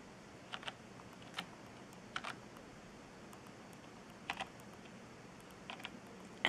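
Scattered keystrokes on a computer keyboard during a Windows installation on a tablet, coming in small clusters of a few taps amid a quiet room hiss.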